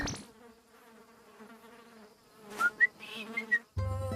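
A cartoon fly buzzing close by, a thin droning whine with wavering pitch that rises into a few sharp whistling chirps before an abrupt cut.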